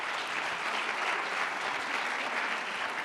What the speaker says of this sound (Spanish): pido un aplauso por ello